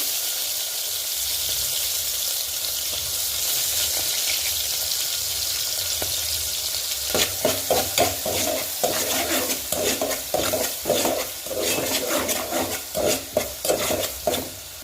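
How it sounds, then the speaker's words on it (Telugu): Green chillies and then onions frying in oil left over from frying dried fish, a hissing sizzle that turns busier halfway through, with rhythmic scraping and stirring strokes against the pan. "ఇదే నూనెలో ఫస్ట్ పచ్చిమిరపకాయలు వేసేసుకుందాం, తర్వాత ఉల్లిపాయలు వేసేసుకుందాం."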